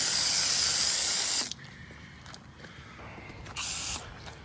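Spray-type coil cleaner sprayer misting cleaner onto an HVAC evaporator coil, a loud close hiss for about a second and a half, then a quieter pause and a second short hissing burst.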